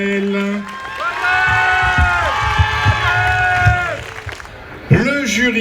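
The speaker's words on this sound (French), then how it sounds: "Vous pouvez applaudir Gaël." A festival crowd at a Miss Robinson pageant at the Fête des Guinguettes claps, cheers and whoops for a contestant, a busy wash of applause with shouted voices rising over it and a host speaking near the start and end.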